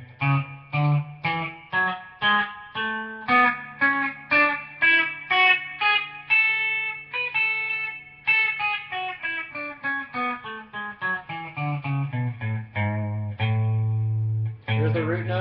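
Guitar running through a major scale pattern, individual notes picked one at a time at an even pace, ascending and descending, close and clear, ending on a held low root note.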